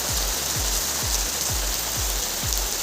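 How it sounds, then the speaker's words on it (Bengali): Heavy rain pours steadily in a dense, even hiss with no break, alongside a regular low thumping in the background. "বৃষ্টি নামছে"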